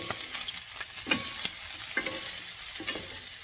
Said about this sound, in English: while you stir fry, your frying pan is hot